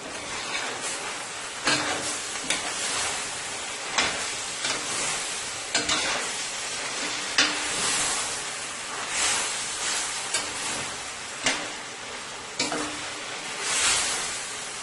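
Chicken wings stir-frying in a pan with purple cabbage, baby spinach and tomatoes, a continuous close hissing sizzle broken by repeated scraping stirs at roughly two-second intervals.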